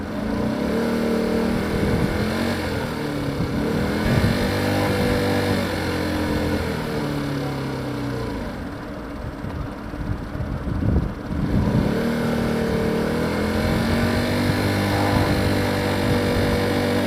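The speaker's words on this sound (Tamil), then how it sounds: "வாங்க போயிட்டு ஸ்கூட்டர் எடுத்துருவோம் நம்ம தாத்தாட்டேருந்து" A scooter engine drones in the open-world mobile game Grand Mobile RP, a continuous loud motor hum with rising and falling revs while riding and no speech over it.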